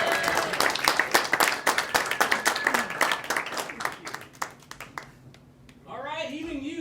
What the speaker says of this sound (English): please put your hands together. Start clapping.